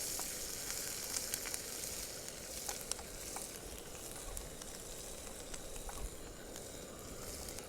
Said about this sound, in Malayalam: ഇനി അതിലേക്ക് ഇഞ്ചി, വെളുത്തുള്ളി, പച്ചമുളക്, കറിവേപ്പില നമ്മൾ ചേർത്ത് കൊടുക്കാൻ പോവാണ്